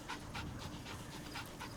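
A puppy in Metal Gear Solid V pants quickly and rhythmically in short, soft breaths, faint but clear, with no voices over it.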